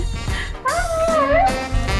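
A pet dog gives a short, close howl with a wavering, rising-and-falling pitch, loud and clear over a low background rumble.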